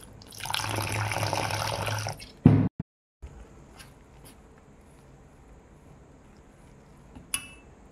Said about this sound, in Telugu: వాటర్ తోటి బజ్జీల పిండిలా కలిపేసుకోవాలి